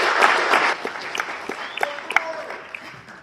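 An audience at a Summit County convention applauds a candidate: dense, sustained clapping that fades into scattered claps, with some speech and crowd murmur mixed in.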